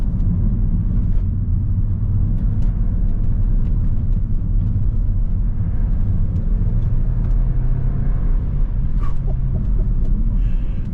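A Mercedes A180 hatchback's engine drones and rumbles steadily from inside the cabin as the car is driven, with road and engine noise continuous and loud throughout.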